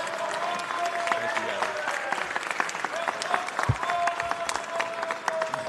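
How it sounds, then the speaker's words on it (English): Applause at a city council meeting honoring a community member, a steady wash of many hands clapping throughout, moderately loud with crowd murmur and faint voices mixed in. "Let's give him one more round of applause."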